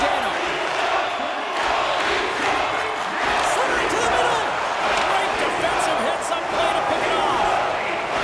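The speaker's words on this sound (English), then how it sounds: "You can feel the energy in this crowd." Arena crowd noise in the NHL 24 hockey video game during a Maple Leafs Stanley Cup playoff first-round game, a continuous broad roar and cheering, with commentary voices over it.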